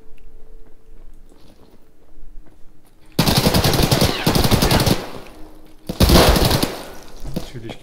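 Bursts of automatic rifle fire from the player's own weapon in Escape from Tarkov, loud and close, rapid rattling volleys in two main bursts after a quieter stretch of faint background sound.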